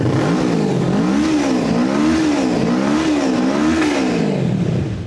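Loud Kawasaki Ninja 650 sport motorcycle with aftermarket exhaust revving repeatedly up and down in a wavering rhythm, throaty and close, with no voices.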